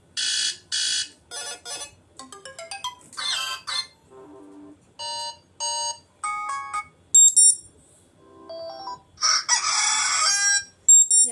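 A series of alarm ringtones previewed on a Moto g42 phone, short electronic chimes, melodies and a rooster crow playing one after another with brief gaps, bright and close with no talking.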